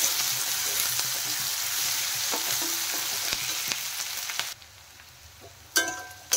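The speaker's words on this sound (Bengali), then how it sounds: "এখন এর মধ্যে আমি কুচনো পেঁয়াজ দিয়ে দিলাম।" Chopped onions with cumin fry in hot oil, making a steady close sizzle with a few stirring clinks before the sound drops and ends in sharp knocks against the pan.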